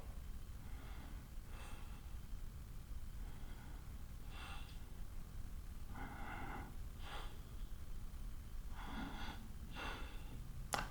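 Slow, deep breathing while holding a yoga pose in a back and hip stretching session: about five soft, drawn-out breaths at an even pace, close but quiet, over a steady low background hum.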